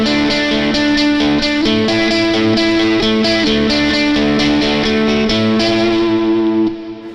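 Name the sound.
electric guitar through Greer Lightspeed overdrive pedal, middle pickup position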